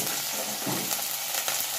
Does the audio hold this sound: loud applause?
no